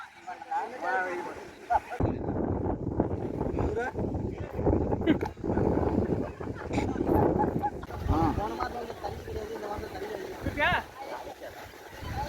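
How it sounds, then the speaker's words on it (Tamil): Wind rushes steadily across the microphone in low gusts at a beach in Kuwait while people talk nearby, with an open outdoor feel. "அருமையான காற்று காற்றடிக்குது"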